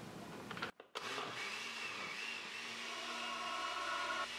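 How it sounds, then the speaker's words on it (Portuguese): A kitchen blender whirs steadily, blending carrot cake batter with drained canned corn. A brief dip near the start gives way to a continuous motor drone with a faint high whine. "E agora é só bater tudo aqui no liquidificador."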